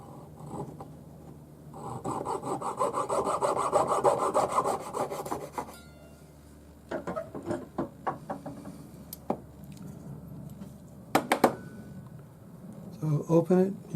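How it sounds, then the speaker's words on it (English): A jeweller's saw cuts through an old solder join on cuff links held in parallel jaw pliers against a bench peg, with a rhythmic rasping stroke that runs for a few seconds, then scattered knocks and scrapes under talking. "hold them in your parallel jaw pliers, and saw at your old join."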